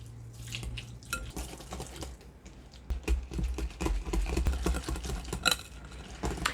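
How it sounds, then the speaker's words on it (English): A whisk clicks and scrapes irregularly against a bowl while combining onion soup mix with other ingredients, close by and fairly quiet, with no talk. "you just use a whisk to combine them"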